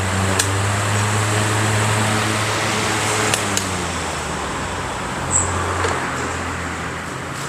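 A repaired Sanshiro 20-inch electric fan runs with a steady, loud whirring hum and low motor drone, a few faint clicks over the constant airflow.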